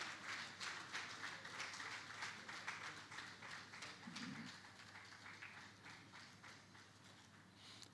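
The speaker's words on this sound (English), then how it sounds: "can we please give a standing ovation for His Excellency, Mr. Governor of Lagos State" Standing ovation for the Governor of Lagos State at a national environmental society conference and general meeting, sustained crowd clapping that is faint and distant, with a steady rhythmic patter throughout.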